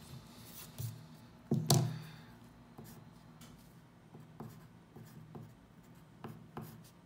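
Chalk or marker taps and scrapes on a board during a maths lesson, faint and sparse, with one louder knock early on.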